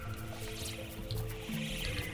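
Water is scooped from a lake in the video game Artificer, giving a soft continuous liquid slosh and trickle with faint dripping, steady throughout.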